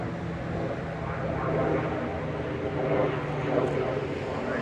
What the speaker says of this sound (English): that plane don't look normal